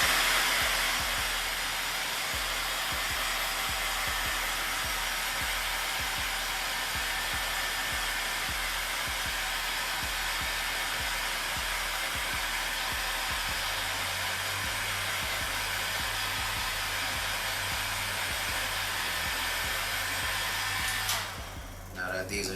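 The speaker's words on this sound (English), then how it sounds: "Hit it with this heat gun to help it dry." A heat gun blows steadily and loudly for about twenty seconds, drying acrylic finisher on a restored Nike Air Jordan 6 Gatorade Like Mike sneaker, then cuts off near the end.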